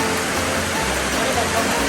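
Heavy rain pours down in a steady, dense hiss, loud and unbroken for about two seconds.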